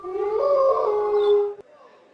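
Supporters at an adapted wheelchair football game imitate a wolf pack with a sustained, rising howl lasting over a second. It is loud and close, then cuts off abruptly and leaves a faint, echoing crowd behind it.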